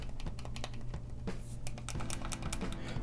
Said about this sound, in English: D-pad doesn't feel too clicky